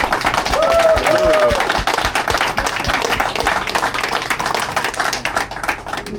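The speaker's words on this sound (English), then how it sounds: "can we make a big round of applause for Ronnie's and their team for welcoming us?" An audience gathered at a Harley-Davidson dealership for a convoy fundraiser gives a round of applause, dense close clapping that thins into scattered claps, with a brief voice at the start.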